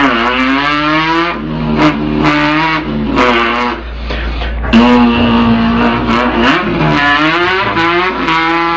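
A voice imitates a drag racing car engine with the mouth, loud close revving tones that climb, break off and rev again in several surging bursts.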